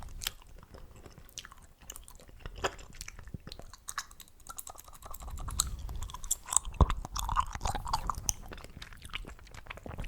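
Close-up, quiet wet chewing of gum with irregular smacks and soft clicks, picking up in intensity midway, recorded intimately with no talking.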